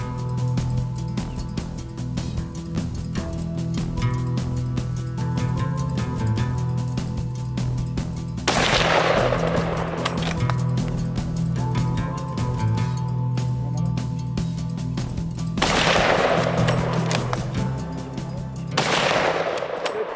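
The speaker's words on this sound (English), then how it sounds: "we were fortunate that we were able to get a couple more shots into him after that first one" Rifle gunshots fired at a bull during a hunt in Zimbabwe: three loud, sharp cracks with decaying tails, spaced several seconds apart, over steady background music.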